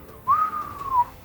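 A human voice imitates a falling bomb's whistle: a single sustained whistled tone that holds and slowly drops in pitch for under a second, close and clear, with no talk.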